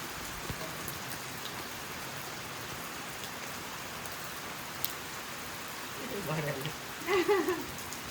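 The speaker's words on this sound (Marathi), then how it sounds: "या शेतात पाऊस पडतोय जसं तुम्हाला दिसत आहे आता." Rain falls steadily on a planted rice paddy, a dense even hiss of drops heard outdoors. Near the end, a voice briefly rises over it.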